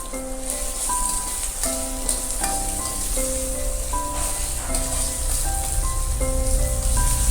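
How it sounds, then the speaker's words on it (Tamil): Shallots, dried red chillies and drumstick leaves fry in a pan, giving a steady loud sizzle with soft crackle throughout, while faint music tones play over it. "வெங்காயம் கொஞ்சம் நல்லா வெந்துடணும், அப்போ தான் நல்லாயிருக்கும், கீரை மணமாக இருக்கும் பொரியல் செய்யும்."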